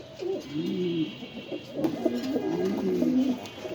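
Damascene pigeons of a Madrasi short-beaked type coo softly nearby in repeated low, rolling phrases. Light rustling and background noise sit underneath the calls.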